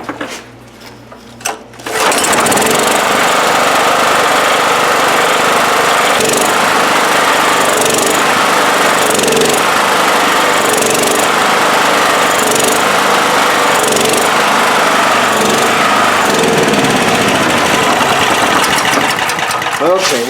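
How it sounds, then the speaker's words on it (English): A Honda EB5000 portable generator's engine keeps running after a no-start repair, a loud, steady mechanical drone that starts abruptly after a brief quiet moment and holds for about eighteen seconds with a slight rise and fall. "Okay, well this time it didn't stall on its own, so it is running a little better."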